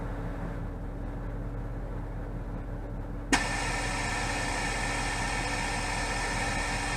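Onboard air system on a Jeep JK adjusting tire pressure, a steady mechanical hum with engine rumble underneath, then a sharp click and a sudden louder hissing air flow that continues evenly.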